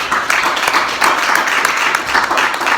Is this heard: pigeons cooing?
no